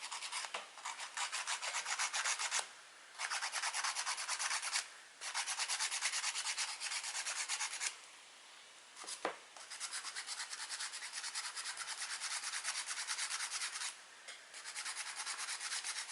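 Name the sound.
nail file sanding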